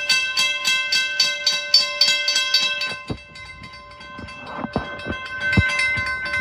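An MBTA commuter train rolls past the Sargent Road railroad crossing in Boxborough, its wheels clattering in a steady rhythmic beat over the rails with crossing bells ringing throughout, loud and close.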